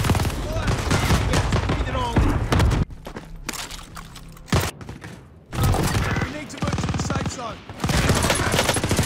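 Rapid automatic gunfire from a BAR rifle in the Warzone video game, loud dense bursts across most of the span with a couple of brief gaps, under and between a player's voice talking.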